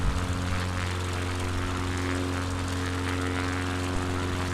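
An XCub propeller airplane in flight near Mount Rushmore in the Black Hills of South Dakota, its engine droning in a steady, loud, unbroken hum with a strong low tonal buzz heard from inside the cabin.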